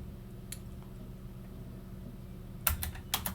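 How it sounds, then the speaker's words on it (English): Computer keyboard keys tapped in a quick burst of several clicks near the end while an IP address is entered, faint and close over a low steady hum. "I'll type an IP address here."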